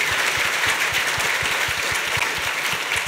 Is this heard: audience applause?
yes